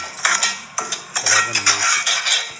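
A metal spoon scrapes and clinks around a kadai as pre-fried crunchy sweet mix is stirred together, quick uneven knocks and rattles close up, with faint talk under it.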